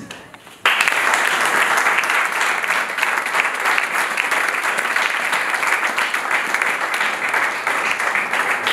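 A large audience bursts into sustained applause after a short quiet moment, dense and steady clapping filling the room until the end.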